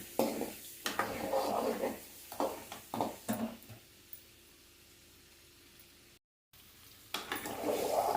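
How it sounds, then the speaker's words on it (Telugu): Boiled eggs fry lightly in a pan, with soft sizzling and a few clinks of utensil against the pan in short bursts, then a quiet stretch and a brief gap before the frying picks up again. "లైట్గా ఫ్రై అవ్వనిద్దాం కొంచెం వేగనివ్వండి"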